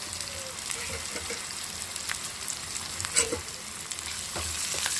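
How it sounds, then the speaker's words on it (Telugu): Crushed curry leaves and garlic frying in a pan as they are stirred, a low, continuous crackling sizzle with scattered soft scrapes and one brief utensil knock, near and fairly quiet. "మొత్తం తిప్పేస్తాను"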